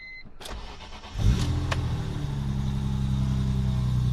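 A BMW M3 Touring with a stroker engine and a performance cam fires up after a brief starter crank, then settles into a loud, steady idle with a slightly uneven, lumpy pulse, heard alone and close by.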